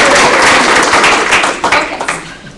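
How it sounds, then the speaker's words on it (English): A room of meeting attendees bursts into applause, dense close clapping that holds strong for a couple of seconds before thinning out toward the end. "So can we just give ourselves all a round of applause?"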